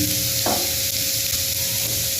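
Food deep frying in hot oil over a low flame, giving a steady, close hiss of sizzling throughout with a brief stir or splash near the start.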